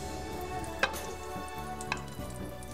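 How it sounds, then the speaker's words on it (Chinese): Chopped scallions sizzle in hot oil in a wok for hot and sour soup, a steady close frying hiss broken by two sharp clinks of a utensil. "油热以后放入葱花炒香"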